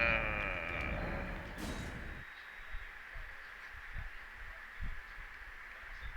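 Sheep in the video game Elden Ring bleat loudly and close for about two seconds, followed by quieter soft thumping and faint background ambience.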